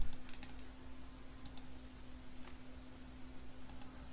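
Computer mouse clicks and keyboard typing during Photoshop work, a few quick clusters of light clicks and keystrokes over a steady low hum, close and fairly soft.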